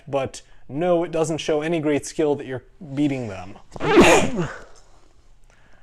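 A single sharp sneeze bursts out right after a stretch of steady male speech, loud and close, during a spoken review of a Star Wars film.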